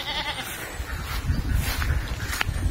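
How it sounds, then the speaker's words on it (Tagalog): Goats bleat in short wavering calls, fairly close, on a mountainside, mixed with shuffling and background noise. "Ang kambing ng kambing oh"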